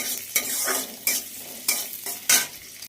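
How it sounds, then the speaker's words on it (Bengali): Onions fry in hot oil with a steady sizzle, broken by four sharp scraping stirs spaced about every half second to second. "একটুখানি পেঁয়াজ ভেজে দিই"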